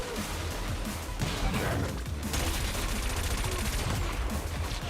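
Weapon fire in the futuristic racing game Wipeout Omega Collection, with rockets and missiles launching in a dense, continuous barrage of bursts and booms layered over loud engine and music noise.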